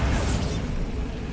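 A blasting spell explosion in Hogwarts Legacy lands as a short loud burst with a whooshing rush, then settles into a rumbling low tail.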